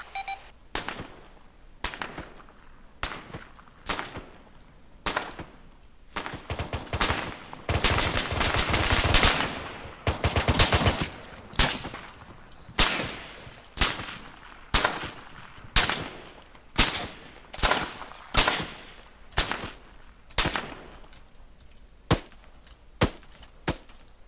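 Video game gunfire in a military operation, a long dense burst of rapid automatic fire followed by a steady series of single loud shots at roughly one-second intervals, close and sharp with no talk.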